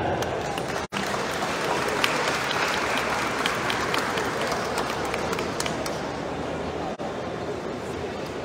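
An audience at a Tijuana credit-awarding event applauds in a sustained, dense wash of clapping that stays strong for several seconds.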